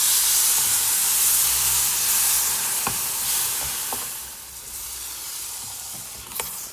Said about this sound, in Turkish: Şimdi iki fincan sütünü ekliyorum.